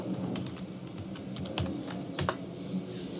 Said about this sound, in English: I'm gonna type in the name of my Wi-Fi here